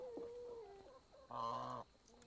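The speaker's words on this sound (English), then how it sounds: "My chickens make some strange sounds." Chickens clucking softly nearby, a few short wavering calls followed by one louder, drawn-out squawk, then quiet clucks again.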